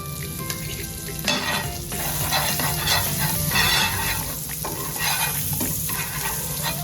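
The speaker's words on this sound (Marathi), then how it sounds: "पॅन चांगला तापल्यावर त्याच्यावर थोडंसं बटर" Butter sizzles and crackles on a well-heated pan as a crispy sandwich is readied, a steady, close frying hiss with some stirring clatter throughout, no talk.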